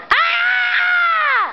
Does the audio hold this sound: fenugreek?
no